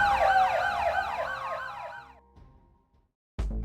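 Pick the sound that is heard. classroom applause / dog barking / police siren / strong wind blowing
police siren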